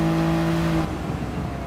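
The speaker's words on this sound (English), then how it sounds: "Oh, that is a proper gruff, grown-up engine note for a car that doesn't really have much engine." A 2021 Toyota Yaris GR engine holds a loud, steady, gruff note for almost a second, then drops away to a lower, rougher rumble.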